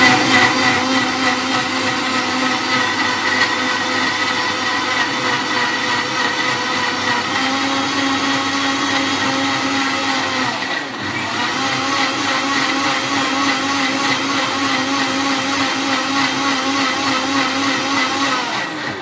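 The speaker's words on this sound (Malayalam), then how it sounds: "അടുത്ത മിക്സി കേടായപ്പോൾ ഞാൻ വാങ്ങിച്ച പുതിയ മിക്സിയാണ്" A new electric mixer grinder runs in a home kitchen, a loud steady whirring motor drone that holds for nearly twenty seconds with one brief dip in pitch midway.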